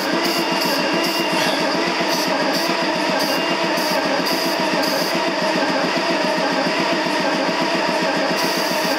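A 4960 tractor engine cranking on two new batteries while trying to start, a loud, continuous rhythmic churning with fast regular pulses that runs unbroken and close throughout.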